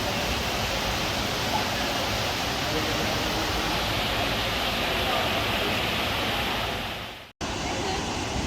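A constant roaring rush of falling water at Gibbon Falls in Yellowstone fills the whole stretch, broad and unvarying, with one brief dropout near the end.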